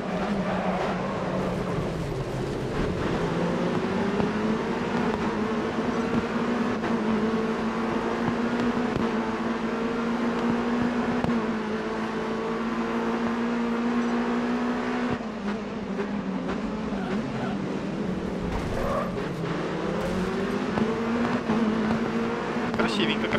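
Caterham SP/300.R race car engine in GRID Autosport, a steady high-revving drone with shifting pitch through gear changes and brief dips, loud and continuous over the whole lap start.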